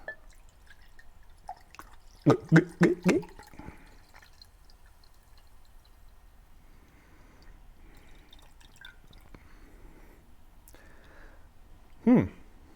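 Angry Orchard pear hard cider poured into a glass, heard as a short cluster of splashy, gurgling bursts near the start and one more brief splash near the end, with quiet room tone between.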